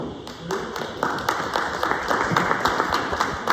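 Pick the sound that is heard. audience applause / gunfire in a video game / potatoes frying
audience applause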